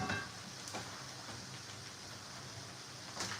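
Spinach sautéing in a hot pan gives a steady, close-up sizzle and crackle with a few sharper spatters, continuous throughout with no talking.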